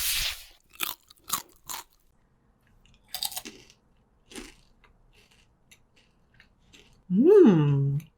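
Crispy mushroom snack crunched and chewed close up in a series of sharp, separate bites spread over several seconds, followed by a short voiced sound at the end.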